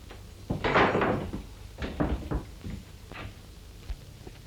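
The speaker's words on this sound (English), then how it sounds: "Get that door open." A door is worked open in a 1935 film, with heavy wooden thumps, scrapes and rattles in several uneven bursts over a low hiss.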